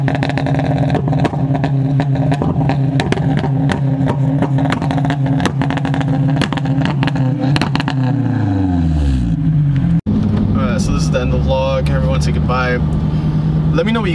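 Dodge Hellcat engine revving loudly and continuously, a deep steady exhaust drone that winds down and then rises again in a second strong rev.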